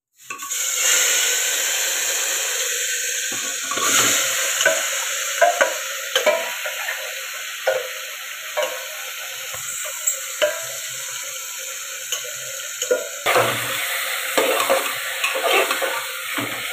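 Meat sizzles loudly in hot oil with cumin while a spoon stirs it, the steady hiss broken by repeated scraping and clatter against the pan, with no voices.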